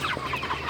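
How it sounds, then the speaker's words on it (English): A flock of over a hundred chickens clucks close by on a hot day, a steady overlapping chorus of short throaty calls. "There's 100 and something chickens right here."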